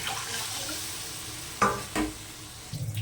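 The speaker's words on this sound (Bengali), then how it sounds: "এবার আমি জল দিয়ে দিচ্ছি।" Water poured into sizzling, fried-down spice paste for a Bengali fish curry (macher jhol), giving a loud hiss and bubbling burst with a couple of sharp splashes over steady frying noise.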